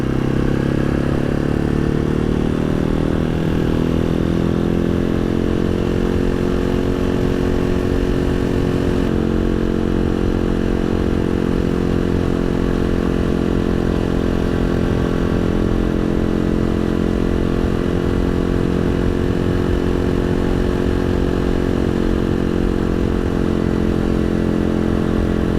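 A Halcyon 250 motorcycle cruises along rural Vermont roads, its engine holding a steady, loud mid-pitched drone with a slight pitch shift early on, close to the microphone throughout with no talking.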